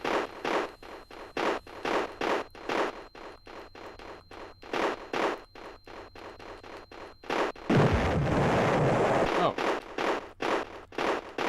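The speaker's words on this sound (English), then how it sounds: "What's that explosion of? I've heard that explosion before in the game." Rumbling explosion in a Commodore Amiga video game, a loud noisy burst lasting about a second amid repetitive rhythmic game sound effects, with a brief exclamation from a man.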